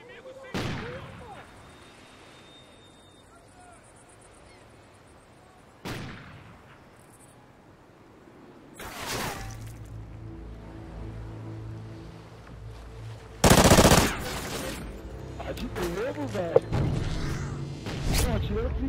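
Gunfire in the Xbox 360 game Call of Duty: Ghosts during a team deathmatch: a few sharp, separate shots spread through the clip, with a louder, denser burst near the end under game noise and a quiet talking voice.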